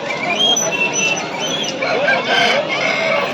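A red rooster at a busy Sunday poultry market in Pileru gives short crowing and clucking calls close by over the steady din of the crowd. People talk throughout.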